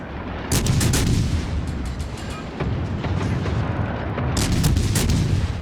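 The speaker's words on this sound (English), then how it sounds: "we are going to start shooting our guns" Warship guns fire in the naval game World of Warships, heavy booming salvos with sharp cracking reports in several bursts, loud and close over a constant rumbling background, with no speech.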